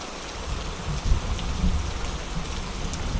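Rain falls steadily in the video game Sakura School Simulator, a continuous hiss of drops with low rumbling underneath and no voices.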